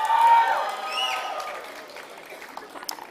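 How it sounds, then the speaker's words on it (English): Audience applause after a dance performance at an annual foundation day celebration, loud at first then steadily fading over a few seconds, with scattered claps trailing off at the end. "let's again have a big round of applause for Dr. Yashdeep"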